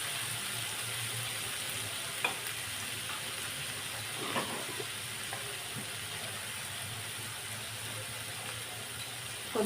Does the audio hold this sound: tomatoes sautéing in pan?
yes